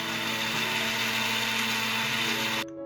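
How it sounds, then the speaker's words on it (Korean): A blender roars loudly and steadily with a whirring motor, grinding watermelon rind, kiwi, cucumber and watermelon seeds continuously for a few seconds before abruptly cutting off. "믹서기에 갈아줍니다."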